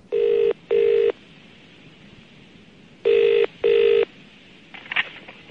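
A British telephone rings in two double bursts, loud and close, with a short pause between the pairs and a faint click after them.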